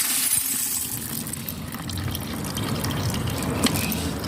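Coins and dirty water are tipped from a tumbler into a sieve, giving a steady close-up splashing pour with a faint clink or two mixed in.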